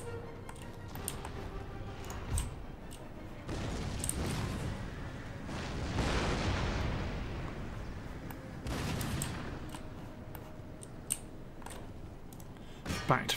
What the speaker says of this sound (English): Back to folks firing the artillery.